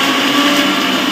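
Electric mixer grinder grinding turmeric paste, a loud steady whirring motor drone that holds constant throughout, with no talking over it.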